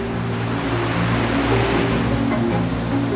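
Rough sea currents surge through the Corryvreckan channel, a loud, steady roar of churning water that fills the scene, with a low engine-like hum under it. No voices.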